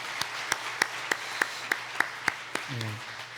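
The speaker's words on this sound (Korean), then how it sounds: "박수하겠습니다." Church congregation at an elder installation service clapping in slow, evenly spaced single claps, about nine sharp beats in a quiet hall, with a brief voice near the end.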